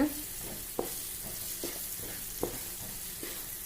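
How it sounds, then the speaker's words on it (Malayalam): Chopped onions fry in hot oil for a prawn pickle, a steady moderate sizzle broken by a few distinct knocks and scrapes of a spoon stirring the pan, with no talking. "ഉള്ളി അരിഞ്ഞാണ്ട് ഇതിലിട്ടിരുന്നു ഇല്ലാറമ്മായി ഇതിൽ കിടന്നിട്ട് ഇതൊന്ന് ഞെരിയട്ടെ"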